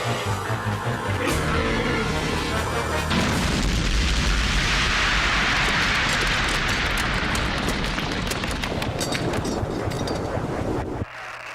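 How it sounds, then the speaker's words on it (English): A cartoon explosion from the CG series ReBoot: a loud, sustained blast of broadband rumble and roar that swells after a few seconds, holds for several more, then drops off abruptly near the end. "The explosion caused interference."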